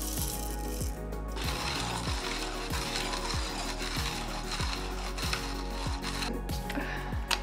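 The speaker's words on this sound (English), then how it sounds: "we can go ahead and start grinding our coffee" A coffee grinder works through beans before brewing an Americano, producing a continuous close gritty crunch with regular rhythmic cranking pulses, about one per half second, over a low steady hum.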